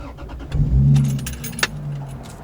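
Low, steady exhaust drone inside a Lexus IS300 cabin with a GReddy exhaust, swelling slightly midway under acceleration, with a brief jingle of keys and small rattles over it.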